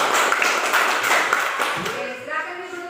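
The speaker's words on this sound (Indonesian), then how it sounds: "Kita kasih tepuk tangan untuk kelompok konsumsi." Classroom students clapping hands together for a group, a quick burst of many overlapping claps that fades out, with a voice speaking over it near the end.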